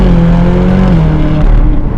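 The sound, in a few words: Ferrari California engine, loud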